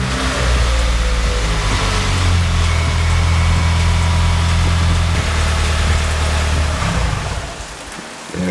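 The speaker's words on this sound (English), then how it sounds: "I'm gonna start up the car and we should see that drop down to 0 and the car should die out" A 2017 Subaru WRX engine runs at a steady idle with a loud, continuous low rumble for about seven seconds, then sputters and dies out, leaving quiet.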